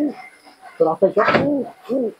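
Pigeons held in hand before being released together in a high-flying giribaz pigeon tournament, giving soft, close, repeated throaty coos in short bursts with brief pauses.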